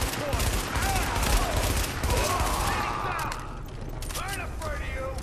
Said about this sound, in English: I'm not used to the burst firing though.